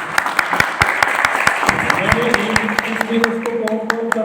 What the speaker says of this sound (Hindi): अपने लिए ताली